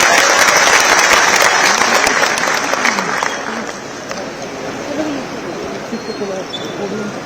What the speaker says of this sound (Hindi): बहुत बहुत तालियों के साथ माननीय मुख्यमंत्री जी का पुनः अभिनंदन करें।